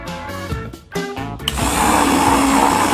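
A blender mixing lemon and lime juice with water whirs up loudly and runs steadily after some brief choppy pulses at the start, a sustained close mechanical roar.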